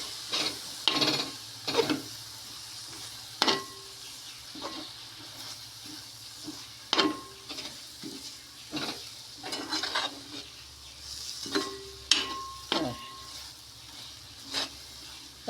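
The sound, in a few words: stirring spice powders frying in a pan for fish head curry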